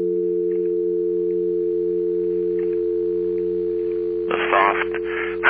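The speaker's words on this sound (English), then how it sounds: "The soft hum of the dial tone that was always there." A steady, unbroken telephone dial tone hums throughout. A short burst of noisy sound breaks in near the end.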